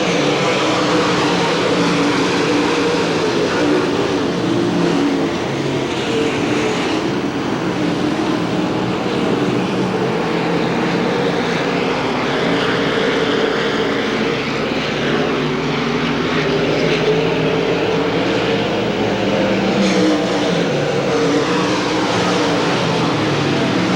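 Race cars roar around Hamilton County Speedway during the 1993 Winston 50, a dense, continuous engine drone that swells and fades as the pack passes, loud throughout.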